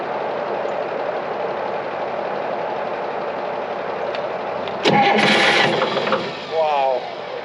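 An old John Deere model 40 crawler engine cranks and tries to fire without ether, a steady mechanical rumble building into a louder burst of starting noise near the end, with voices speaking over it.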